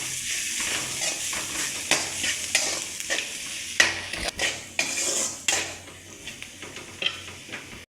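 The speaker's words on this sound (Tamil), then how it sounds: "இப்போ நல்லா வதக்கிக்கலாம்" Carrots and beans stirred and sautéed with chilli powder, garam masala and salt in hot oil for chicken fried rice, a spoon scraping the pan in repeated strokes over a steady close sizzle.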